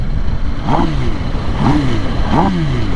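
A 2021 MV Agusta Rush motorcycle engine revs three times, each blip rising and falling in pitch over a steady idle, close and loud.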